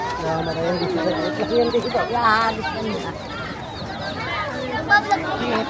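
Chickens cluck and squawk at a cemetery in Laguna on All Souls' Day, several birds calling in uneven bursts at close to middle distance, mixed with a background murmur of people talking.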